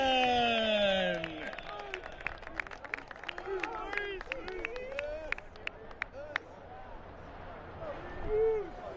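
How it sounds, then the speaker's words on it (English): Crowd applause at a college sports senior day ceremony in a stadium, a broad wash of scattered clapping and cheering with a distant voice fading out at the start and a brief shout near the end. "please give a round of applause for number 33, Jack Egan."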